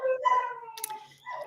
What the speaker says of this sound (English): I'm sorry about my dogs in the background if you can hear them